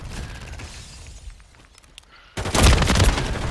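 Grenade exploding in Call of Duty gameplay, a sudden loud broadband blast that cuts in and rumbles to the end after quieter game noise.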